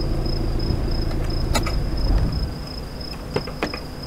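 Crickets chirp in a steady, shrill drone through a dark outdoor scene in the horror video game The Curse of Blackwater. Low rumbling ambience fills the first half, and a few sharp clicks and knocks sound near the end.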